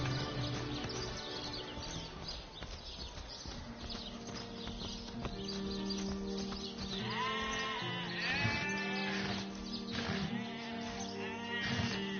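Sheep in a video game bleat several times in quick succession over a busy backdrop of game sound and clopping, quiet overall.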